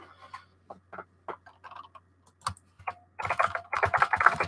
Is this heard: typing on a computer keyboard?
yes